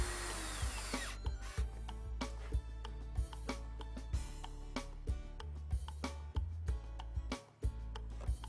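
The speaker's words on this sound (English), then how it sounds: "use clamps in the meantime to hold the shelves in place while you drill pilot holes and install" Power drill working southern pine plant stand shelves, drilling pilot holes and driving screws: repeated short whirring bursts with sharp ticks between them, close and clear with no talk.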